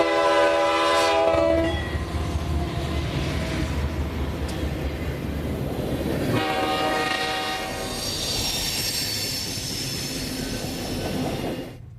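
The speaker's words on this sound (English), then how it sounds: "CSX's own GE units include standard cab C40-8s, such as this unit headed south at West Point" A CSX GE C40-8 standard cab locomotive heads south at West Point, sounding its horn at the start, then a loud rumbling diesel and clattering wheels pass close by, with another horn blast midway.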